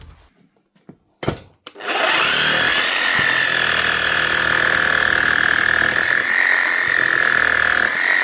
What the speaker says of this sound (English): HM0870C hammer fixed up again and got running for longer with some new O-rings, grease and new bearings